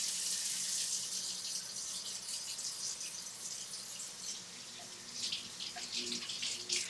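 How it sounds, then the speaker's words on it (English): A kitchen tap runs steadily into a sink while a knife is rinsed under it, the flow splashing and shifting close by with no talk. "Just wash off my knife."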